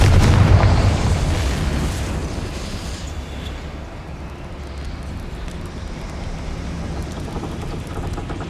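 A Confringo fire spell bursts in Hogwarts Legacy, a loud booming explosion up front that rumbles and fades into a sustained crackling, rain-like wash over several seconds.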